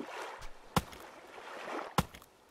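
A boat is paddled through water in the survival game Stranded Deep, with two distinct splashing paddle strokes about a second apart amid soft watery swishes and gentle ambience.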